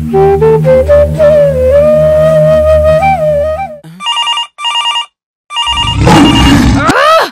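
A telephone rings in a comedy scene, heard as a few short bursts of electronic ringing after a stretch of loud music, followed by a dense burst of noise.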